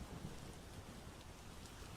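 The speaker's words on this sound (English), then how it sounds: "lightning sounds nice." Steady rain with a low rumble of thunder in the video game Vintage Story, a faint, continuous hiss of falling rain with no voices.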